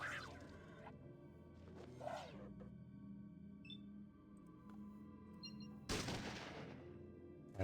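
Gunshots in the video game Fallout: a couple of sharp reports standing out from a quiet, hum-filled background, with the loudest shot near the end.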